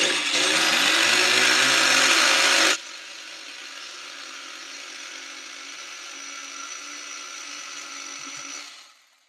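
A Kyosho Inferno RC car's nitro engine screams at high revs for a few seconds, then drops to a steady, buzzing idle that fades away near the end.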